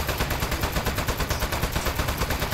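Rapid, steady automatic gunfire from robotic turrets in the Aperture Desk Job video game, a loud continuous burst of shots lasting the whole moment with no other sound on top.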